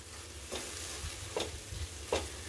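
Dal fry with kasuri methi is stirred in a pan over steady sizzling, with three soft scraping strokes of a spoon standing out, moderately close and with no talk.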